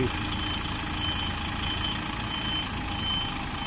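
Class 1 lorry tractor unit reversing a trailer during a training exercise, its diesel engine running at a steady low idle-like rumble with a slight knock, close and continuous without talk.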